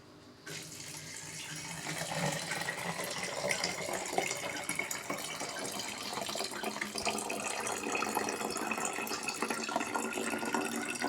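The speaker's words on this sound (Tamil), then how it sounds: "இதில் தண்ணியை ஊற்றுறோம்" Water is poured into a bottle while mixing a beetroot fermentation solution: a steady, close, rushing pour that starts after a brief quiet moment and continues without a break.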